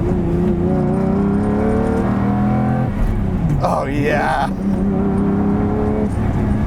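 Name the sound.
car engine revving in a video game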